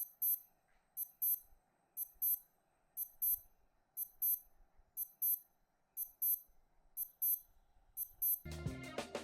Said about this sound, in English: The alarm sound isn't as loud as a Casio, but it's acceptable given the price point.